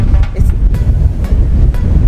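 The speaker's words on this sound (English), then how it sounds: "Can you hear me with all that wind?" Strong wind on a beach buffets the microphone in a loud, continuous low roar that gusts and swells throughout.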